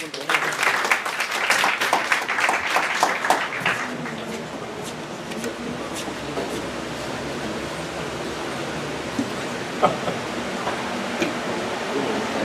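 Audience applause at a university criminal studies conference in Lima swells loudly for a few seconds, then fades into quiet room tone with occasional faint taps and shuffles.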